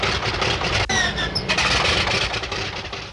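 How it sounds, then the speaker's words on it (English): An aircraft engine starts up on the deck of a wartime aircraft carrier, a loud steady roar with a sharp crack near the start, heard alone with no talk. "Stand by to start engines."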